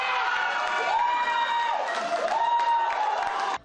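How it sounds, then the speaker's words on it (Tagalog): A crowd at a sports bar watch party in Pasig City cheers and claps as their player scores, a dense burst of shouting, whistling and applause that carries on loudly without pause. "Walang tigil sa hiyawan at palakpakan sa tuwing makakapuntos si Ayala."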